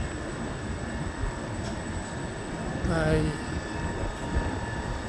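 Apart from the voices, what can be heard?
train at a station in Uppsala, Sweden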